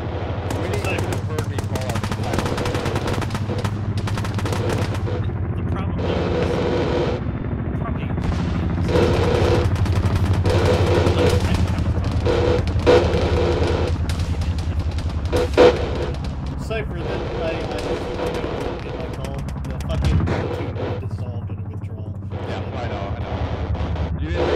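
Sustained bursts of automatic gunfire and heavy rumbling explosions fill a military video game firefight with an armored BTR vehicle nearby, loud and continuous, with brief swells and sharper blasts.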